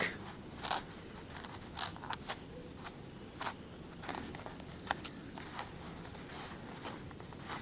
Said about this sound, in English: you're going to take all these extra strands and you're going to cut them off on the front